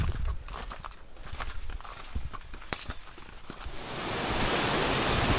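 Water rushing at the remote blue Lothuvagu waterfall, starting as soft crunching steps and distant flow, then swelling into a loud, steady roar.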